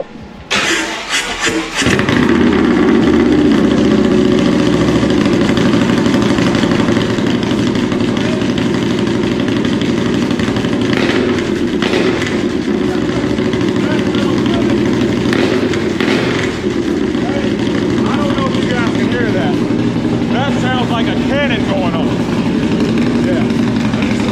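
A customized motorcycle with a T-bar setup and no ignition switch fires up and settles into a loud, steady idle close by, its rumble running unbroken with brief blips of throttle and some talk over it.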